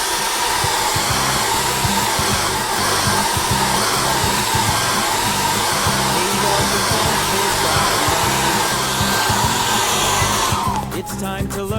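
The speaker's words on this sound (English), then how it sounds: "I'm going to get my hairdryer and I'm just going to give this a dry off." A hair dryer blows continuously and loudly at close range while drying an acrylic painting, a steady whooshing roar that holds throughout before cutting off abruptly near the end.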